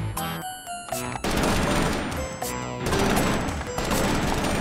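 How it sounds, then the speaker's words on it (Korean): Rapid bursts of gunfire crackle and boom in a dense, chaotic exchange in the video game Totally Accurate Battlegrounds, automatic weapons firing continuously with loud shots layered over a noisy battlefield din. "와, 총소리 나는 거 봐."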